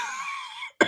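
A single rough, ugly cough bursts out abruptly after a steady, high-pitched sustained tone that cuts off just before it.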